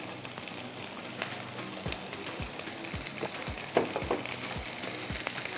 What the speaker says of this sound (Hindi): अभी ऑयल ज़रा गर्म हो रहा है, फिर हम ये भी इसमें डाल देंगे